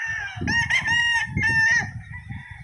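A rooster at the Sinulog Cup 2024 cockfight lets out two long, loud crows close by, each a sustained harmonic call, with clucking and shuffling underneath.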